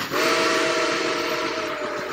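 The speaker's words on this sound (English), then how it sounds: "I heard a shrill steam whistle." A loud, shrill steam whistle blasts continuously, a steady piercing tone over a rushing roar, close by and sustained for the whole stretch.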